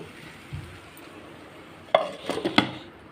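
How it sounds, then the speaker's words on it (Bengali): Potatoes sautéing with spices in a pan for a vegetarian potato curry, giving a soft low sizzle with a few louder clinks and scrapes of stirring near the end. "এবার এই মশলার সঙ্গে আলুটাকে ভালো করে কষিয়ে নেব"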